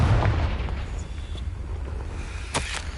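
A Confringo spell explosion in Hogwarts Legacy, heard as a heavy low boom at the start that fades into a rumbling decay, with a faint crack near the end.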